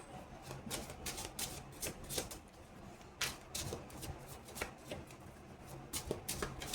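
Tarot cards shuffled by hand in a quiet room, a steady run of soft, close riffling flutters and light slaps repeating irregularly, with no voices.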